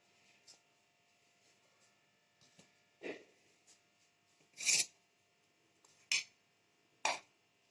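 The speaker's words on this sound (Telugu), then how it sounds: "ఆయిల్ వేడింది ఆవాలు వేస్తున్నాను" Mustard seeds dropped into hot oil for gongura dal give a few sharp, scattered pops and crackles, spaced a second or so apart over a quiet background.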